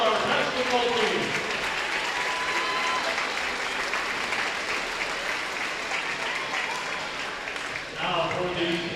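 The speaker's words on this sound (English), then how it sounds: "Once again, a round of applause for the Class B Girls All-Star Basketball Team." A gym crowd applauds loudly and continuously for the Class B girls all-star basketball team at a 2021 Lions all-star game, the clapping fading slightly before a voice briefly comes in near the end.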